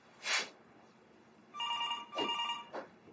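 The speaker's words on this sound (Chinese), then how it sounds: "接下电话。" A telephone bell rings in short bursts in an indoor home scene, a brief trill, then a longer two-part ring after a pause, moderately close and fairly quiet.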